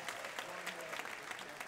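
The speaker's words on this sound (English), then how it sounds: "Another round of applause for contestant number 5" Steady audience applause for a contestant at a senior women's pageant, dense overlapping claps heard from a moderate distance, fairly soft and even throughout.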